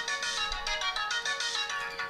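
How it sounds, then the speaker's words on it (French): A mobile phone ringtone rings steadily in a quiet room, a repeating electronic melody pulsing at a moderate level with no talk over it. "On va laisser sonner. J'ai oublié d'arrêter mon téléphone pro."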